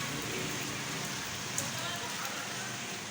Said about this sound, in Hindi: देखो बारिश हो रही है।